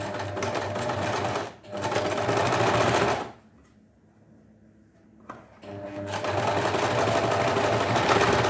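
A sewing machine runs in steady bursts while stitching the side seams of a set-in sleeve garment, whirring loudly, stopping briefly near two seconds, falling quiet for about two seconds, then starting up again.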